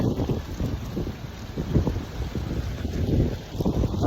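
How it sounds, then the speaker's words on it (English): Wind gusting steadily against an outdoor microphone, a low rumbling buffet that swells and eases throughout with no voices. "of course, this wind picks up"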